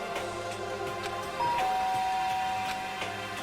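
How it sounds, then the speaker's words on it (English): Chime of a doorbell beside a door in Danganronpa: Trigger-Happy Havoc, a clear ding-dong tone sounding once over a quiet looping background. "There's a doorbell next to the door."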